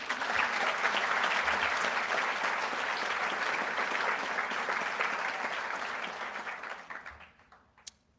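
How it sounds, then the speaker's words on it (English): Warm, dense applause rises from a crowd at a fundraising breakfast, holding strong for several seconds before tapering off, with a single sharp tap at the very end. "Give them a round of applause."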